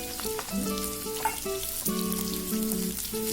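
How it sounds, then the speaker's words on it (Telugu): Finely chopped small onion fries in hot oil for a pepper mutton fry, a steady close sizzle and crackle with light stirring clinks, without talk. "ఇందులోకి సన్నగా తరిగి పెట్టుకున్న ఆనియన్స్ వేస్తున్నాను"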